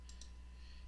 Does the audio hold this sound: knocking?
no